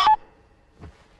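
A telephone is dialed in a Hindi-dubbed comedy film scene: a sharp, loud dialing tone at the start, then a fainter second tone shortly after, with quiet in between.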